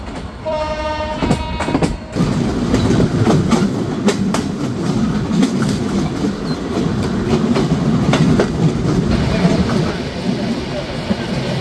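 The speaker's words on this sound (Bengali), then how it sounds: "ট্রেনটি এখন স্পিড 94 দেখাচ্ছে এখান থেকে" The Jahanabad Express runs at speed on the rails: a loud, continuous rumble with rhythmic clatter from the wheels, heard from on board. A brief horn-like tone sounds near the start.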